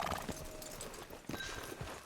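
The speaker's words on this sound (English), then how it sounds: "So weird to see like wild horses." Wild horses in the Red Dead Redemption 2 video game clip-clop over the ground in a quick, uneven run of hoofbeats, with a whinny rising above them, moderately close and with no talking.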